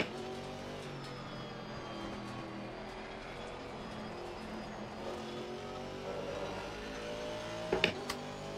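A race car engine in Assetto Corsa Competizione on the Nürburgring drones loud and steady, its pitch rising and falling through gear changes, with a brief burst of harsh clatter near the end.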